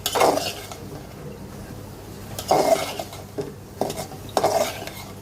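Kolmi greens (water spinach) being stirred in a cooking pot, with several bursts of scraping and clinking from a utensil against the pot, separated by quieter gaps.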